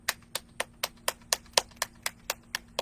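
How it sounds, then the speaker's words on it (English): Hands clapping at a steady even rhythm, about a dozen sharp close claps spaced roughly a quarter second apart, with no other sound around them. "clap, clap, clap, clap, and then stop"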